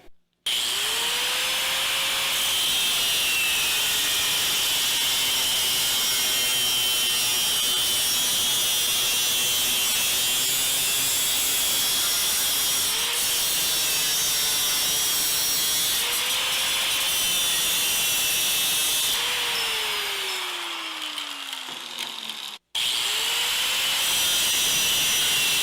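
Metal cutoff wheel on a fast-spinning grinder cutting metal, a loud continuous high whine and grinding hiss with pitch dips as the wheel bites, sustained close up for the whole stretch with one brief cut-out.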